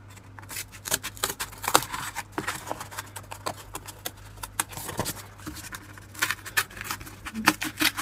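Scissors cutting through a piece of old cardboard to trace out a tablet outline, with steady close snips and rough scraping crunches over eight seconds, no talking.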